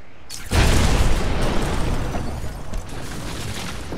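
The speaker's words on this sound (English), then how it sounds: "was that like a special explosion?" A deep, booming explosion in the video game Batman: Arkham Asylum bursts out loud and close, then trails off into a long rumbling roar that slowly fades.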